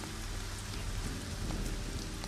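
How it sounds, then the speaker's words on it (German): Steady rain falls in a citadel town in the fantasy video game ArcaniA: Gothic 4, a dense continuous hiss of drops pattering on surfaces with no voices. "Sehr schön, es regnet."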